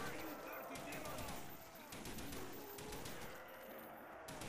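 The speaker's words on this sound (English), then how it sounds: "I don't know why I switched to my HK21 because it has more ammo and I don't have time to reload." HK21 machine gun in Black Ops Zombies, rapid bursts of gunfire crackling across the clip, faint in the mix beneath game sounds.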